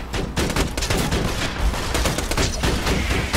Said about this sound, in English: Deploy that machine gun.